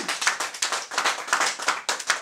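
A small comedy club audience at a birthday stand-up show claps in a steady, rhythmic pattern, many hands striking together in regular bursts, fairly close and unaccompanied by talk.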